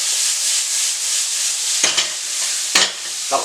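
Chopped carrots, peppers, peas and onions fry in a pan with a steady broadband sizzle, broken by a few brief stirring scrapes near the end.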